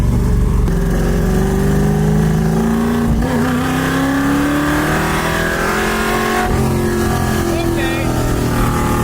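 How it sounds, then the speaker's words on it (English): A car accelerating hard up through the gears, loud close engine drone rising in pitch with each gear and dropping at the shifts, heard from inside the cabin with a voice talking over it. "I'm gonna go easy up to third gear, but once I hit third gear, I might lay into it a little bit"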